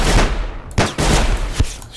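Loud gunfire in the video game Sir, You Are Being Hunted: a few heavy, booming shots spaced unevenly over two seconds, close and punchy over a rumbling background.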